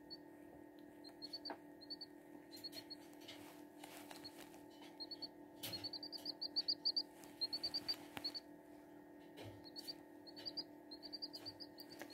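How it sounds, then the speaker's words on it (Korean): Tiny bird-like chirps from a three-day-old Serama chick, repeated short bursts of high peeping scattered across the stretch, close and moderately soft over a steady low hum. "새소리 비슷한 소리를 내는 거예요"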